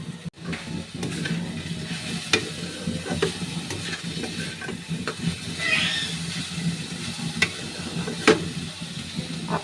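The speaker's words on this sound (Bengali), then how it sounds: "এবার আমি চিনিটাও দিয়ে দেব। চিনিটা দিয়ে ভালো করে করে নেব" Sugar being stirred into a coconut mixture in a wok for kadam phool pitha, with a steady soft sizzle and scraping of the spoon, a few sharper clinks of utensil against the pan.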